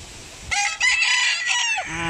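A rooster crows nearby in a drawn-out call, loud and clear over quiet background clucking, on a small farm in the Philippines.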